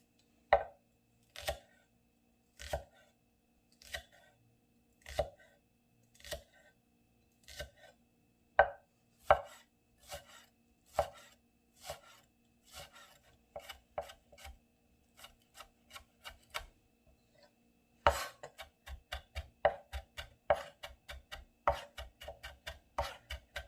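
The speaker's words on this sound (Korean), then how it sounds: "파마늘 다졌어요" A knife chops green onion and garlic on a cutting board in a Korean kitchen, sharp close knocks at a steady slow pace that quicken into rapid chopping near the end.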